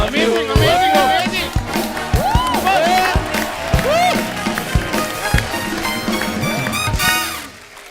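A studio audience at a comedy show claps and cheers in a burst of applause, with whoops and raised voices over the dense patter of clapping. Loud chatter and voices run alongside it throughout.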